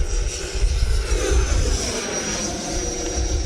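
A Horizon Hobby RC jet flying a knife edge pass makes a fluctuating whine and rush with a faint high tone, its level swelling and easing over a few seconds as it passes.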